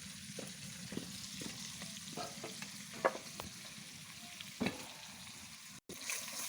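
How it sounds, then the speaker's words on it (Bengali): An egg frying with salt in a pan for a chui jhal curry gives a steady, close sizzle. Scattered scraping stir clicks and a few sharper pops sit on top, and nobody speaks. "আর লবণ দিয়ে ডিমটাকে একটু ভেজে নেবে"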